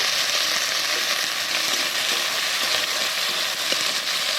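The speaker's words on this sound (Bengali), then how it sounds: "দিয়ে পেঁয়াজটা দিয়ে লাল লাল করে একটু ভেজে নেব।" Onions fry in mustard oil in a wok with a loud, steady hiss and crackle, close up and continuous, with occasional faint stirring and no talking.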